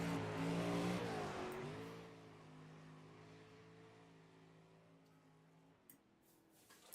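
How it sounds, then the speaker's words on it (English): A loud car engine from a racing game revs high and then settles into a fading, steady drone, with a couple of faint clicks near the end and no talk over it. "The car is loud."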